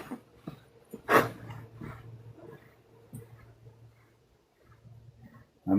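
A dog being groomed and having its belly massaged gives faint whimpers and snuffling breaths up close, with one louder whine early and quiet stretches between.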